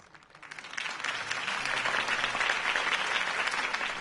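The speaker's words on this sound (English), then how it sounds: "If only Mr. Wayne, my campaign's largest backer, could have heard that applause" Crowd applause at a Harvey Dent campaign rally in Batman: The Telltale Series, a dense wash of clapping that swells from quieter to full and sustains steadily throughout.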